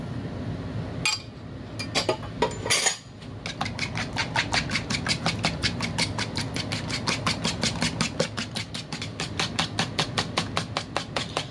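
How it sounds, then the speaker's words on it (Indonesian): Egg whites and sugar being whisked in a bowl, a steady rapid clinking beat of the whisk against the sides continuing loud and close after a few initial knocks and clatters. "Terus ini kita kocok putih telurnya,"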